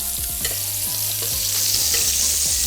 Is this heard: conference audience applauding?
no